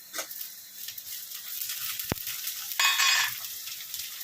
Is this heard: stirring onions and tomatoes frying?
yes